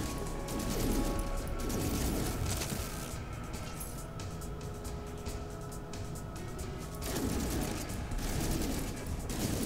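Continuous bursts of rapid gunfire and explosions from the game No Man's Sky, fighting sentinels and a giant robot, dense and loud throughout, with mechanical clatter layered underneath.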